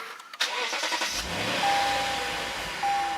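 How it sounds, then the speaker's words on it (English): A Lexus RC F engine cranks briefly and fires up, then settles into a steady, fairly loud idle heard close from inside the car, with no talk. "Alright, let's go ahead and start up the car."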